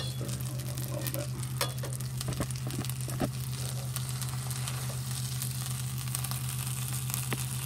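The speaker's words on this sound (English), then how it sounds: "Let's stir it in a little bit" Macaroni being stirred into a pork cream sauce with nutmeg in a hot pan, a steady soft sizzle with faint scraping and occasional light clicks, close and alone with no talk.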